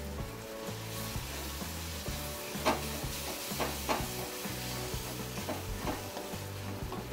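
Paneer bhurji masala with spices being stirred in a hot pan, a steady sizzle with repeated scraping strokes of the spoon, close and clear, and no talking.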